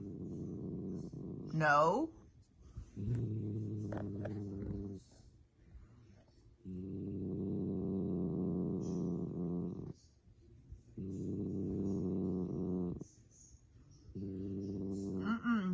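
A male cat growls in long, low rumbling stretches with short pauses between, close up, while having his nails cut; a person speaks briefly near the start.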